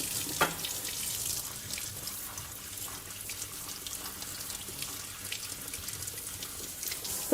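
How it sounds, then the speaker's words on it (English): Tap water runs steadily into a sink over drained boiled white beans being briefly rinsed while making shiro an, a continuous splashing flow with no talk. "Drain and rinse briefly."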